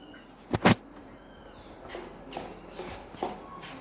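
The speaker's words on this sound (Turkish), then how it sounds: "Miyavlama sesi geliyor" A cat lets out a short, clear meow up close inside a veterinary clinic, followed by soft shuffling footsteps and faint rustling.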